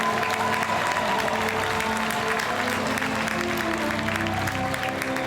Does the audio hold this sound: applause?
yes